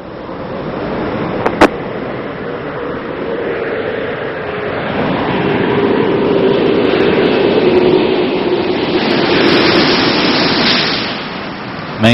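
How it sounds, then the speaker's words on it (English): Space Shuttle Discovery touching down and rolling out on runway 33 at the Kennedy Space Center on mission STS-85: a loud, steady roar and rumble that swells midway and holds for about twelve seconds, with no voices. "Main gear touchdown."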